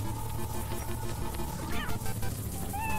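Cat meowing in a video game, a couple of short rising meows heard faintly over a dense, steady bed of game sound.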